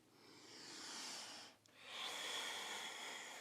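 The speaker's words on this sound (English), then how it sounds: "Really nice breathing in." Slow, deep breathing during a vinyasa yoga flow, heard as a long soft inhale, a brief pause, then a steady airy exhale, close and quiet with no talking.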